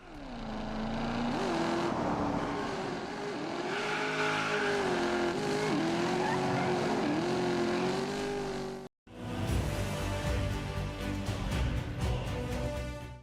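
Sports cars such as Ferrari, Lamborghini, Porsche and Bugatti roar through Test Drive Unlimited Solar Crown, engines revving up and down with shifting pitch, then a brief cut to a louder, denser engine drone with tire noise.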